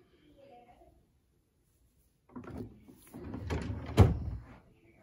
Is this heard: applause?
no